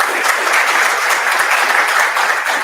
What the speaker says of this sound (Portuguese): Vou pedir ao público aqui uma salva de palmas